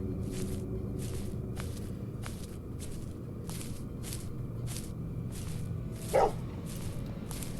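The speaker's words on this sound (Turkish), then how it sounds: "Köpek var." A dog barking repeatedly at a steady pace from a distance in the mobile horror game Head Horse, over a constant low background hum, with a brief whine near the end.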